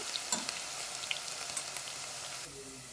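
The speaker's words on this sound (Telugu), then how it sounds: "తెల్లగడ్డలు వేసుకున్నాము. ఇవి బాగా ఫ్రై అవనిద్దాము." Garlic frying in a pan for a ripe red chilli pachadi gives off a quiet, steady sizzle with faint crackles, close and unaccompanied by talk.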